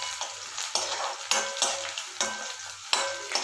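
Onions frying in a pan for a cauliflower curry, turning light red as they cook, with a continuous close sizzle and regular rhythmic stirring scrapes against the metal.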